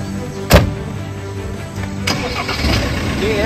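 A Land Rover Defender starting up: a sharp crank-and-catch burst, then a second click, followed by the engine settling into a low, steady idle, close and loud.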